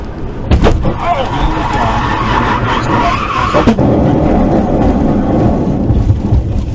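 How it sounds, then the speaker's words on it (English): Car skidding on a highway after a ball joint and drive shaft failure, a loud sustained grinding and scraping roar with rumbling road noise that never lets up. "Good day to lose a ball joint. And a drive shaft."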